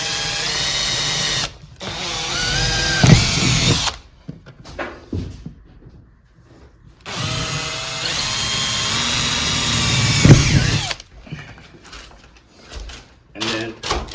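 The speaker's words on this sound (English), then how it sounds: "So he's going to do a pilot hole." A power drill bores a pilot hole into a metal-studded wall in two loud, close bursts of several seconds each, separated by quieter gaps with faint handling noise and voices.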